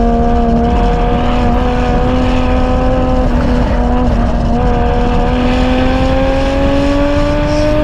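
A race car engine screams at sustained high revs during a hard timed lap at a track day, its pitch slowly climbing with brief shifts, loud and continuous from inside the car.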